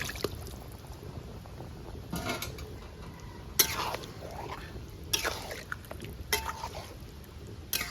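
Water is poured into a pan of marinated chicken for chicken pataka, making soft liquid splashes and drips with a few clinks of utensils against cookware, fairly faint and close, with a quiet voice in the background.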